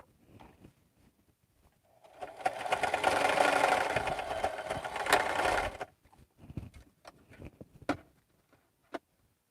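A home sewing machine, likely a Singer Heavy Duty, runs steadily for about three and a half seconds with a fast mechanical whir, then stops, followed by a few scattered clicks and taps.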